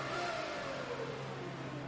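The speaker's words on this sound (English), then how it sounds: "I can hear a beautiful sounding 91 McLaren revving to come out of the pits" A 1991 McLaren race car in a racing game revs in the pit lane at the Canadian Grand Prix, a smooth rising and falling engine whine, moderately loud and steady, heard alone.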